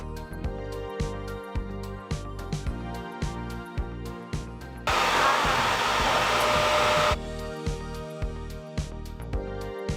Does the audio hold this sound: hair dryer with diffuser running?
yes